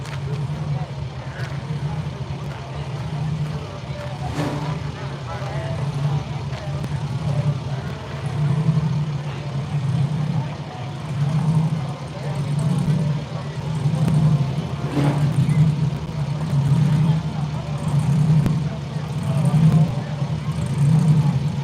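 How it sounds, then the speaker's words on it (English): Steady engine drone with a low rumble, no-prep drag racing cars idling and running at some distance at Southside Dragway, with faint voices in the background. "I hear some cars."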